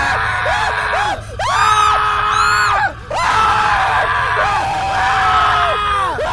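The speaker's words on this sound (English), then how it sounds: "Then I heard them screaming," Several people scream while burning alive inside a car in an animated horror story, loud, sustained, wavering shrieks that come in overlapping waves with brief pauses between them.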